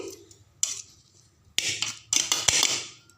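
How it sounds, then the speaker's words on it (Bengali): A metal spatula scrapes and clatters against a pot while turning vegetable pulao with ghee and sugar, in three separate bursts of scraping and knocking, close and fairly loud, with no talking. "তো এখন আমি এটাকে খুন্তির সাহায্যে খুন্তির পিছন দিকটা দিয়ে এরকম করে উল্টে পাল্টে নেব।"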